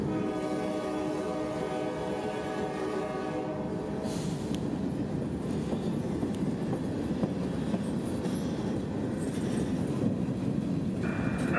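A Norfolk Southern freight train rolls past close by, with a continuous low rumble and clatter of wagons and a horn tone early on, loud and steady throughout with no talk.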